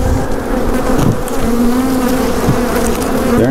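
Dense honeybee swarm buzzing steadily and loudly as packaged bees are shaken out near a hive, a continuous close drone with no talking.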